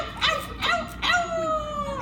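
A bird at a school show imitates a coyote with three short, rising yipping howls followed by a drawn-out falling howl, close and clear.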